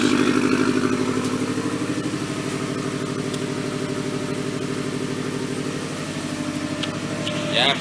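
2013 Subaru STI with an Invidia catless downpipe idles nearby, a steady loping burble with a rhythmic uneven exhaust pulse, faint voices underneath and a brief rise near the end.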